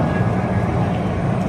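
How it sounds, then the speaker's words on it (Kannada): An airplane flies overhead at the Aero India air show, a loud, steady engine drone filling the short moment without a break. "ಕರೆಕ್ಟಾಗಿ ಈ ಪ್ಲೇನ್ ಮೇಲೆ ಹೋಗ್ತಾನೆ."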